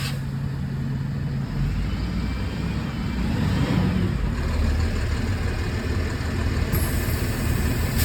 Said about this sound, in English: now I can move the trailer forward so I can close the doors on the trailer